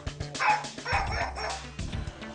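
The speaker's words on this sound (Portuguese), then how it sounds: "É fotossensível, então quando ela vem na luz, ela late." Novelty photosensitive mug in a shop emitting a recorded dog barking, a string of yips and bow-wows under shop background noise.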